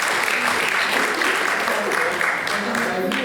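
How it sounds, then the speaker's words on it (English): Warm, sustained applause from the audience at a spiritual awards ceremony in Wales, a dense steady wash of clapping that fills the room throughout, with a few voices mixed faintly underneath. "Really big, warm round of applause"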